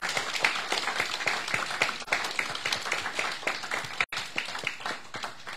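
A church congregation claps their hands during a worship service, many hands in a brisk, fairly steady rhythm of sharp claps, close and lively, with a brief gap partway through.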